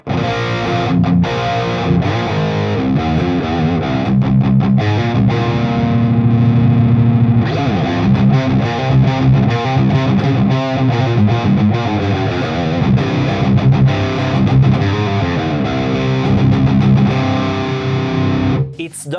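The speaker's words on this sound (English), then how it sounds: "Now it's only the overdrive section. So let's raise the gain." Electric guitar through the overdrive section of a Jeff Loomis Devil's Triad pedal with raised gain plays dense, crunchy riffs and chords continuously, loud and saturated throughout.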